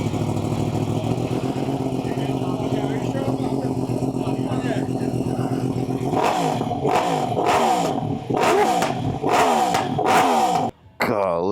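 A sport motorcycle engine idles roughly up close, then is blipped through a series of sharp, loud revs that rise and fall in quick bursts.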